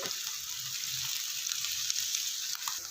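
Onions and finely chopped cabbage sizzle in a pan for a Spanish omelette, a soft, even frying hiss with faint stirring, quiet and continuous.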